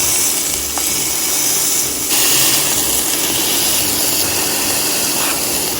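A smashed burger patty pressed thin sizzles in a hot pan, a loud continuous hiss and crackle that swells briefly when pressed, with no talk over it.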